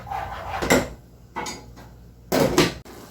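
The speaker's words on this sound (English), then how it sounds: "Let me stir this." Shrimp for shrimp and grits are stirred in a cooking pan with a metal utensil, giving three bursts of scraping and clanking against the pan separated by quieter gaps, close and moderately loud.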